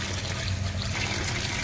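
Bitter gourds (karela) being rinsed with water in a kitchen, a steady close trickle and splash of running water throughout with no talking.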